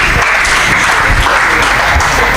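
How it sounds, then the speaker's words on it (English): An audience applauding at a live poetry performance at the Pa Gya 2020 festival, a loud, dense, sustained burst of clapping from a large crowd, steady and close for the whole moment. "Another round of applause."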